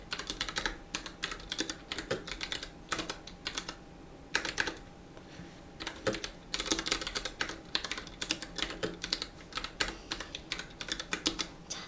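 Someone types CSS code on a computer keyboard, producing quick, irregular clusters of close key clicks with brief pauses, steady for the whole stretch and with no talking.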